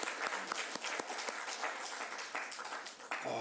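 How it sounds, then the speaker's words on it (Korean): A church congregation claps in welcome during a Sunday worship service, a brief round of quiet, scattered applause from a small crowd heard from a distance. "성령이 이곳에 함께 계심을 우리 환영의 박수를 드립니다."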